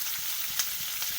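Garlic cloves fry in a pan until light brown, giving a steady, close hissing sizzle with tiny crackles and no voices.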